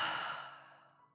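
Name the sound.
deep breath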